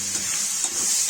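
Chopped tomatoes being fried for a spicy brinjal curry sizzle and crackle steadily in hot oil as they are stirred, a close, continuous hiss with no voices.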